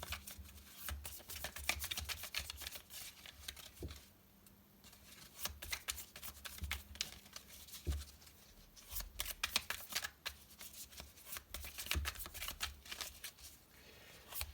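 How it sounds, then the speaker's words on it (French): Playing cards shuffled for a four-card tarot-style draw, a steady run of crisp riffling and flicking with a few sharper snaps, close and fairly quiet, with no voices. "Donc c'est un tirage en 4 cartes."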